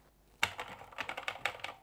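Keys clack on the keyboard of a 1983 Philips P2000C portable computer, a quick, close run of about eight crisp keystrokes after one sharp first press.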